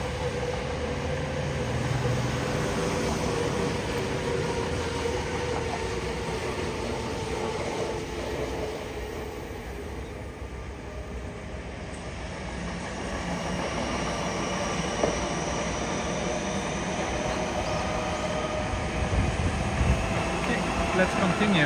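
A train rumbles steadily past near Futakotamagawa in Tokyo, a broad, continuous roar of rail traffic that holds for the whole stretch, swelling slightly toward the end.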